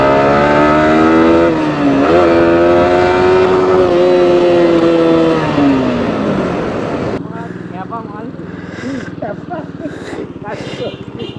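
A sport motorcycle at a public-road wheelie, either a Yamaha R15 or a KTM Duke, drones loudly with a steady, rising engine note for several seconds, then drops away as the bike recedes, leaving distant road noise and voices talking.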